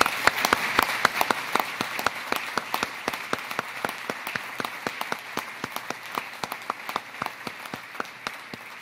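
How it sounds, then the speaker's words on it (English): Audience applause at a U.S. Naval Nuclear Propulsion Program change of command ceremony. Even, crisp clapping from a seated crowd with some sharper nearby claps in a steady patter, moderately faint, with no talking over it. "they deserve a round of applause"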